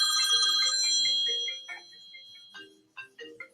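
Telephone ringing with a bright, bell-like trill that holds for about a second and a half, then breaks into softer scattered chirps and tones, moderately loud indoors with no talking.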